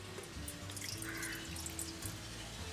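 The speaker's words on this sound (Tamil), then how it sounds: "இதுக்குள்ள கொஞ்சம் தண்ணியாக விடுவோம்." A thin trickle of water pours into a ground flour mixture while preparing Jaffna-style aadi kool, a faint liquid splashing against a low, steady background hum.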